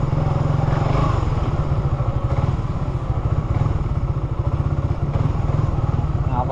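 A motorcycle engine runs steadily up close, its rapid, even exhaust pulses and mechanical clatter loud throughout, while a voice talks faintly underneath.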